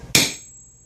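A single close, ringing metallic strike as a hammer taps hot steel during forging with a striker, a sharp impact that decays quickly with a faint lingering high ring.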